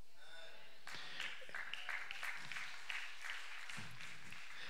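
Applause from a church audience at a Vision Day 2024 service builds into sustained clapping of many hands. It is moderately loud and fills the room with an even, continuous patter for several seconds.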